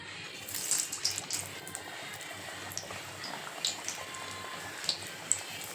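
Mung bean vada frying in hot oil in a kadai over a low flame, a quiet bubbling hiss broken by small sharp pops and spatters, with no one speaking.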